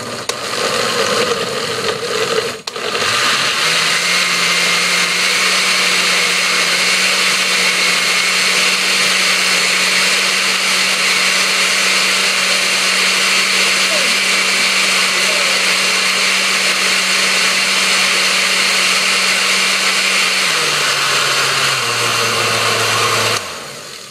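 A blender mixes a smoothie with a loud, steady motor whir that starts abruptly after a brief clatter, holds an even pitch for about twenty seconds, then drops slightly in tone near the end.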